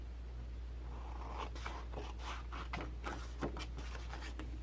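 Quiet series of short scraping snips as a paper edge is cut off a piece for a fall chunky mini album, irregular and close, over a low steady hum.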